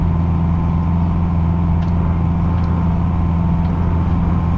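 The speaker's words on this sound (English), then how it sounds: "It's the wheels making such a noise." In Euro Truck Simulator 2, a Volvo truck's tyres roll at speed, making a loud, steady, droning road roar with an engine hum underneath and no talk.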